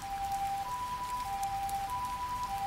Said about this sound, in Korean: 멀리서 소방차 소리가 들립니다.